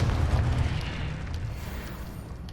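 A Confringo spell explodes in Hogwarts Legacy with a heavy, rumbling blast that starts loud and slowly fades into a low roar.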